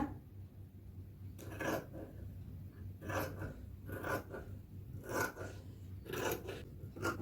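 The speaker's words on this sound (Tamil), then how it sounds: "பாருங்க, இதை கட் பண்ணி எடுக்கணும்." Scissors cut saree fabric along a printed design line in a quiet room, giving a series of short, crisp snips spaced about a second apart over a low background hum.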